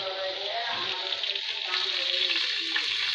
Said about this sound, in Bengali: মাছটা ভাজা হইল।